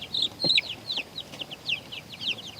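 Young chickens about three weeks old in a backyard flock, giving a run of quick, high chirpy clucks in short repeated bursts, fairly close and moderately loud, with no talk.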